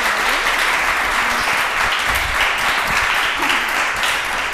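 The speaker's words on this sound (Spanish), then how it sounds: "Fuerte aplauso para ellos y todos y cada uno." Studio audience applause at the close of a Spanish local TV quiz show, a dense steady clapping wash that holds loud and even throughout with no voices over it.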